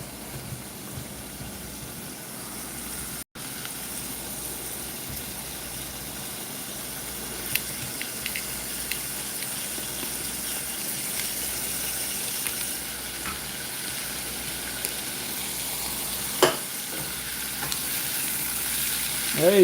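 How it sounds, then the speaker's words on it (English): Potato pieces fry and sizzle in a pan, a soft continuous crackle with a few louder pops and a brief stir, fairly faint and close, no talking. "let me show you how it sizzles."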